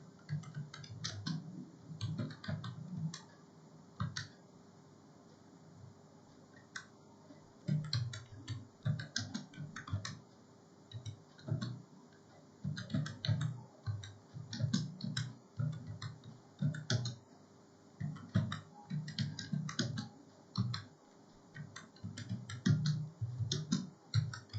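A computer keyboard clatters as a sentence is typed into a LibreOffice Writer document, with close, quick keystrokes in irregular bursts and short pauses over a faint steady hum.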